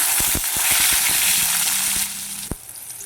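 Tomato dropped into hot oil with asafoetida and spices for a Bengali vegetarian dish, giving a loud, close, dense sizzle with crackling pops that drops in level after a sharp clatter near the end.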